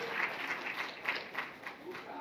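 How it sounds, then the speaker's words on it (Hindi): Faint audience clapping at a political gathering in Bihar, a soft, steady patter of many hands heard from a distance in a quiet room. "तो उसको थोड़ा सा एक बार ताली जरूर बजा लिया जाए"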